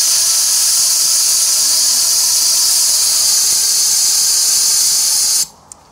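Commercially made blast gun fitted with a 7mm nozzle blows a loud, steady hiss of compressed air, holding constant for over five seconds before cutting off abruptly into near silence with one small click.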